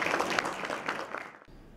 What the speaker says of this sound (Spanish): Les pido por favor un aplauso para dar inicio a la conferencia del doctor Ricardo